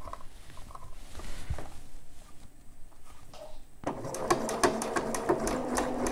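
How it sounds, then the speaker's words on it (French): After quiet handling sounds, a sewing machine starts up and runs a fast, rhythmic zigzag stitch over elastic on a bra, close and moderately loud, continuing to the end. "la machine, il commence toujours par quelques petits points sur place"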